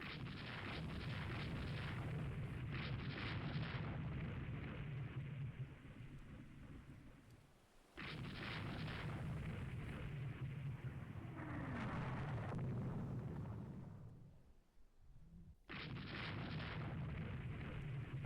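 A 16-inch naval shell hit exploding in Rule the Waves 3, a warship strategy game: long, heavy rumbling booms roll on in three loud waves with short quiet gaps between them.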